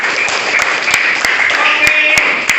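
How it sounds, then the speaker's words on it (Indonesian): Children in a quiz session applaud in a steady, close patter of clapping, punctuated by a few sharp, louder individual claps. "Mantap, tepuk tangan."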